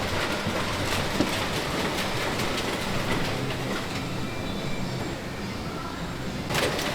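An apple quality and size grading machine sorting Elstar apples runs with a steady, dense mechanical rattle and clatter, loud and continuous throughout with no speech over it.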